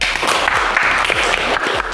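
Applause from a classroom audience after a group presentation during a teacher training session, a steady dense patter of clapping filling the whole short stretch at close range.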